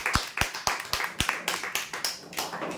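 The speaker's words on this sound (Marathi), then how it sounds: "जोरदार टाळ्या होण्यासाठी" A crowd applauds a prize winner at a lucky draw with brisk, uneven clapping that rises in loudness and stays close and lively for a few seconds.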